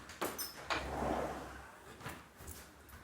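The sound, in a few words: door being opened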